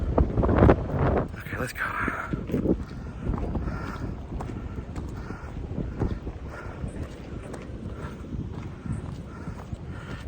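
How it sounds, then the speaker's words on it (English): Strong wind buffets the microphone on an outdoor walk with a guide dog in training, a steady broadband roar with gusts, louder at the start, with footsteps and brief speech over it. "Hard to tell for sure with this wind as hard as it is."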